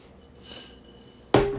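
A glass container of coffee beans is handled, with soft rustling and then a sharp, close clink of glass near the end.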